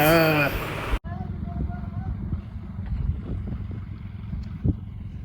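A John Deere tractor engine revs hard while pulling a load on a farm, giving a steady low rumble that continues after a brief voice at the start.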